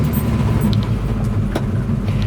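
1958 Chevy Apache Fleetside with a small block V-8 running just after starting, a steady low rumbling idle close by, loud and even with slight lope, no talking.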